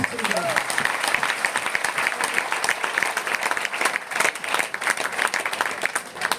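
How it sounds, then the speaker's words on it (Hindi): Audience clapping at a talk, a dense burst of many hands applauding steadily and fairly loud for several seconds, with no speech over it. "एक बार ताली बजा दो।"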